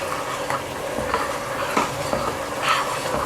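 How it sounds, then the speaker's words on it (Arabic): Macaroni being stirred in a pot, a continuous scraping and swishing texture with soft periodic clinks of the utensil against the pot, close and alone. "نقلب المكرونه"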